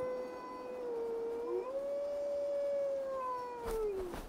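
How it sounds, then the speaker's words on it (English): Wolves howl in Assassin's Creed Valhalla, a long, clear, wavering tone that rises and falls for several seconds, with a second howl overlapping briefly, set against faint game ambience. "I hear howling."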